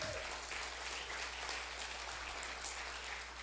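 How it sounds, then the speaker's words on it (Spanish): A church congregation applauding in a steady, dense wash of clapping that holds evenly throughout, heard from a distance in a reverberant hall. "¿Cuánto le dan un aplauso al Señor?"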